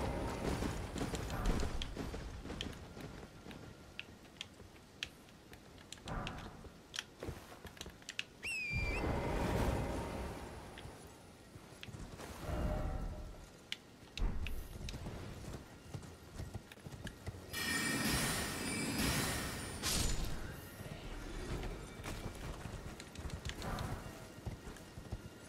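Horse hooves clip-clopping while riding horseback in the video game Elden Ring, fast galloping patter with brief pauses and bursts of combat noise, fairly quiet overall.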